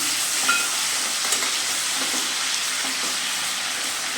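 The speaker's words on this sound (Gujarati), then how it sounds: "એક પેણીમાં આપણે તેલ ગરમ કરવા મૂકી દીધું છે, તો એની અંદર આપણે મસાલો નાખી દઈશું અને મસાલોને મીઠું નાખીને સાતળી લઈશું." Spices and salt sautéing in hot oil in a pan, a steady broadband sizzle holding evenly throughout with no talking.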